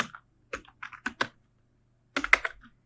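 Typing on a computer keyboard while entering a Google search, two short bursts of close, crisp key clicks separated by a brief pause.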